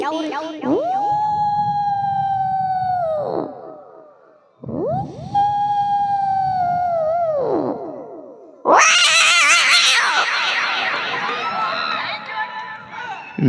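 A voice imitates cats fighting: two long wavering yowls followed by a harsh, screeching burst, loud and close.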